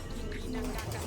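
Pigeons nesting indoors under a ceiling give a brief, close, low cooing call, a soft throaty murmur over faint background noise.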